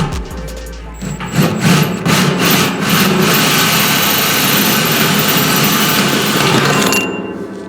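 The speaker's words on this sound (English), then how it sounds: "Once the bit gets started on the can, we're gonna angle it." A cordless drill bores into a 50-gallon metal drum, a loud sustained whirring grind that kicks in after a second of spin-up and runs steadily for about six seconds before winding down, with no talking over it.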